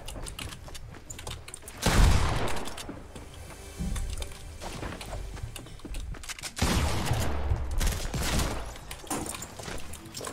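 Rapid bursts of SMG gunfire in Fortnite rattle in two loud volleys, with quieter clicking and mechanical noise between them.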